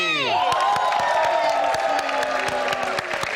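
A TV talk show studio audience cheers loudly with rapid clapping, whoops over a sustained roar of applause, and a descending musical sweep at the start.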